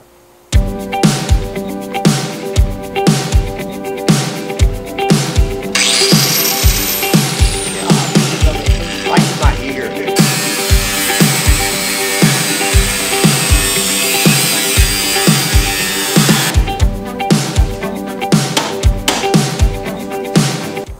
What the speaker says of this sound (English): So today I'm gonna try to use the cutoff wheel and see if I can get it that way.